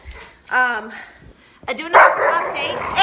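A pit bull and a valley bulldog bark and yip loudly nearby in short bursts, with a person's voice calling out over and between the barks indoors.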